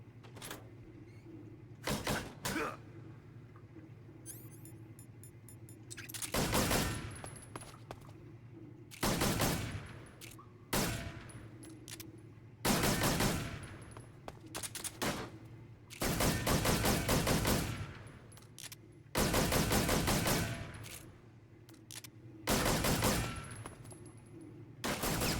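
Repeated bursts of loud automatic gunfire in Metal Gear Solid 3, each lasting one to two seconds and separated by short quiet gaps. The shots sound close and harsh, with no talking over them.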